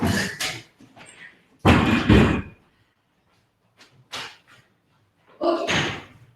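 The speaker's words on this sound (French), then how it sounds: "j'ai oublié de fermer la porte" An indoor door slams shut in one loud thud near the start of a quiet room, with a few softer bumps and shuffles after it as someone settles in before a yoga session.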